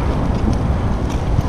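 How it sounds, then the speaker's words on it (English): Wind buffets a microphone outdoors while fishing from a boat in clear Florida water, producing a continuous low, rumbling roar with fluctuating gusts and no speech. "Sorry about the wind, guys."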